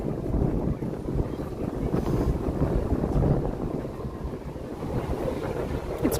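Steady wind blowing outdoors at Disney's Hollywood Studios theme park, a continuous low rumbling buffet across the microphone with no pauses and no talk.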